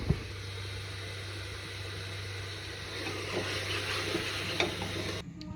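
Tadka tempering sizzling in a pan, a steady soft frying hiss with a steady low hum beneath it, a few light clinks of stirring toward the end, no talking.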